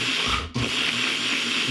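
A blender loudly grinds tikka masala curry paste ingredients, a dense whirring roar that briefly dips partway through before surging back and running steadily to the end.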